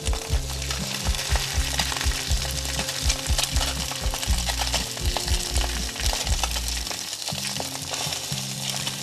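Small fish fillets sizzle and crackle steadily in a hot frying pan, with repeated low thumps of a utensil pressing them down.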